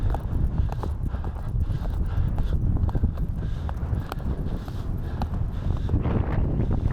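Hooves clip-clop in a steady, quick rhythm close by, over a gusty wind rumble on the microphone.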